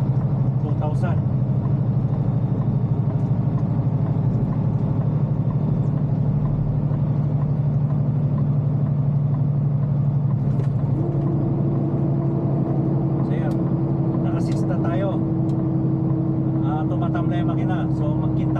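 A truck engine drones steadily at low RPM, sagging and losing power, a constant loud hum with a slight pitch shift partway through and faint clatter near the end.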